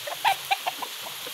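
A chicken clucks in a short series of sharp, fairly close calls spaced unevenly over a quiet outdoor background.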